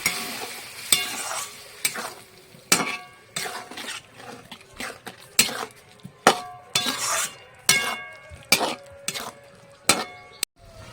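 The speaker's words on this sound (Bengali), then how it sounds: "মশলাটা ধুয়ে একবার একটু জল দিয়ে দিলাম কষানোর জন্য" Spice paste cooks in a pan with a splash of water, a soft bubbling sizzle punctuated by regular sharp scrapes and clinks of a spoon stirring against metal.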